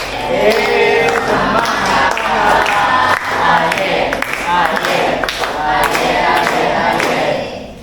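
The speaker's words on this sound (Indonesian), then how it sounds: "Beri tepuk tangan untuk kelompok 1" A classroom group claps for group 1 before their presentation. Dense, lively applause with cheering voices and scattered thumps runs loud and close throughout, easing off at the very end.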